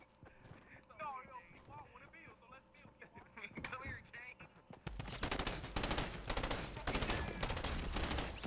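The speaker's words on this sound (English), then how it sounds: "the drum gun should do more damage than it does." Rapid bursts of drum gun fire in a Fortnite match, a dense rattling stream that grows louder and continuous in the second half, with a person talking over the earlier part.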